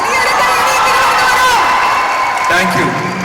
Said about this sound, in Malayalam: അതുകൊണ്ട് വലിയൊരു കൈയടി ഇവിടുന്ന് തരണം